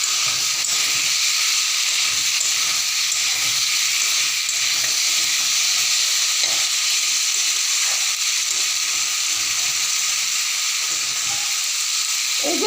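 Pumpkin and potato frying in a pan with black cumin and onion, a loud, steady sizzle and hiss throughout, with soft scraping and stirring noises underneath and no talking.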